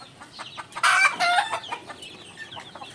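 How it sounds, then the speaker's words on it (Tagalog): An ARL brood hen clucks among her chicks, a short loud burst of one or two harsh calls that rise above a quiet farmyard background and then fade. "Pumutak nga yung aming ARL right-nosed brood hen"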